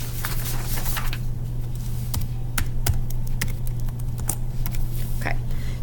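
Keys on a computer keyboard tap in scattered, irregular clicks over a constant low hum, light and close.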